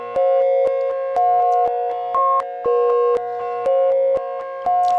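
Repeating synth tones pass through a Kajita multi tap delay plugin on iPad with two delay taps active, giving sustained pitched notes that restart in a regular stepped rhythm with sharp clicks at each repeat, loud and with no voices.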